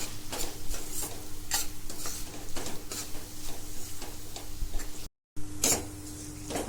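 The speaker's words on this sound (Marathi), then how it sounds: "आता आपण हे चांगलं मिक्स करून घेऊया" Coriander and cumin powder being stirred together for butter paneer masala, heard as a close run of repeated scraping, rustling strokes with a steady faint hiss beneath and one brief drop to silence.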